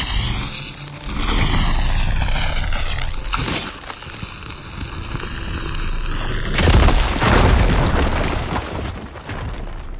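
A fire gleam being blown up in the video game Horizon Forbidden West: sweeping tonal machine drones and rumble, then a sudden deep boom with a crackling, roaring burst that swells and fades.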